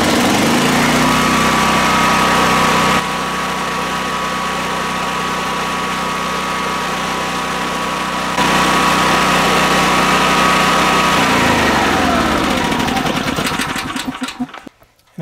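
A Generac XT8500EFI portable generator runs steadily at close range, a loud continuous engine drone with a constant whine, stepping in load partway through before sputtering and cutting off at the end, with no talking.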